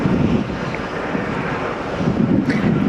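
Strong wind buffets the microphone in gusts at a harbor, heard from atop a harbor wall: a rough low roar with faint waves or water movement behind it.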